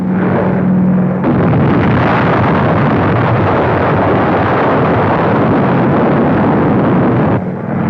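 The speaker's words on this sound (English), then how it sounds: "From an escorted B-29 is loosed the greatest explosion ever caused by man." A deep, sustained roaring rumble of a 1945 atomic bomb explosion dropped from a B-29, loud and broadband, holding steady for several seconds before easing slightly at the end.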